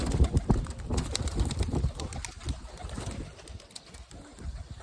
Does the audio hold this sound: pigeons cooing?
yes